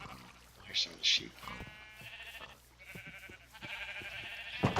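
Minecraft sheep bleat twice in quick succession on a survival multiplayer farm, short and fairly clear, with other game sounds and quiet talk around them.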